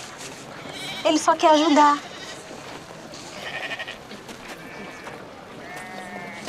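Sheep bleating close by in a rural pastoral setting, a loud wavering bleat followed by fainter calls, with people talking over it.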